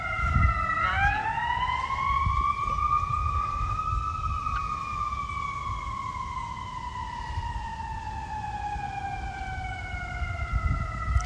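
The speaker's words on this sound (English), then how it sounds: "It's a fire truck." A fire truck siren sweeping past, a loud wailing tone rising, holding and then slowly falling in pitch as it moves by, over a constant rumble of traffic.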